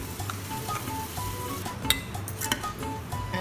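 Semolina and baking powder for a baath cake are mixed in a bowl, with steady close scraping, a few sharp clinks of spoon against the bowl, and a low background hum.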